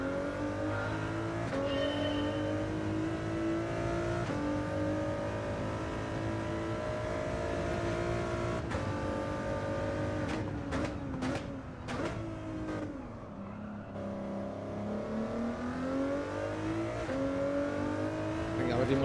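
A race car accelerates around Daytona in Gran Turismo 7, its engine climbing through rising revs with repeated gear-change dips, loud and continuous, with a voice talking over it.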